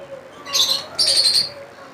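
Two bright chirps from a pair of pale blue lovebirds at a bird farm, the calls close together with a brief gap between them, near and clear over a quiet background.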